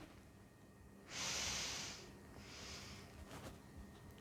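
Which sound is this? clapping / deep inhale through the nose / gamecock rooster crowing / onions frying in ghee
deep inhale through the nose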